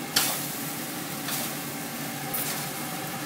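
Food sizzling steadily as it is stirred in a pan over a gas flame, cooked too long and starting to burn; a close, even hiss with a few sharp scrapes and no talking.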